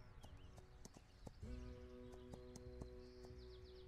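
Galloping horse hooves in the Heat Homestead video game, a steady clip-clop rhythm running through the whole stretch over a layer of game ambience and occasional bird chirps, with a short neigh-like tone near the middle.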